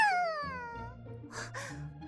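Cats meow close by, with a long falling cry followed by softer, shorter mews, layered over a quiet background.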